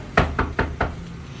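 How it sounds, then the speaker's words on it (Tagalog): Four firm, evenly spaced knocks on a door, close and loud, with a short quiet tail afterward. "Ba't kasi hindi mo katukin yung pinto?"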